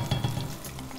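Margarine sizzles and fries in a preheated pan while farofa is being made. The crackle is close and continuous, with a few louder stirring pops near the start.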